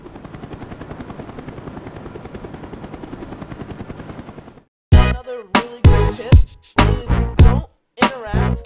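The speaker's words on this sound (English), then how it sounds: "I think I'm about to finish the game here in a second with a chopper kill" A helicopter in Call of Duty: Black Ops, a steady rhythmic rotor thump for several seconds that cuts out abruptly into a string of loud, sharp game blasts and bursts.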